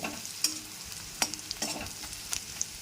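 Chopped garlic fries in oil in a pan, a soft continuous sizzle punctuated by irregular clicks and scrapes of stirring, close by and without speech.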